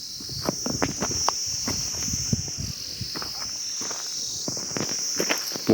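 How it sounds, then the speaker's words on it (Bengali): Insects and crickets call in a steady high-pitched drone along a hill road near Darjeeling, with soft scattered footsteps and patter underneath throughout. "পোকার ডাক।"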